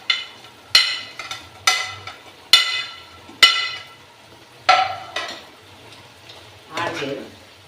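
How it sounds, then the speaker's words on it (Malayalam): Fried chicken goes into a sizzling pan of chilli chicken with vinegar and salt, then gets stirred: a series of sharp metallic spoon scrapes and clinks at irregular intervals over a faint sizzle. "ഇനി നമ്മൾ ഈ വറുത്ത് വച്ചിരിക്കുന്ന ചിക്കൻ ഇതിലോട്ട് ആഡ് ചെയ്യും."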